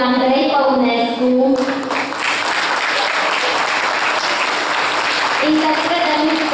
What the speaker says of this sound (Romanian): Vă rog să-l aplaudăm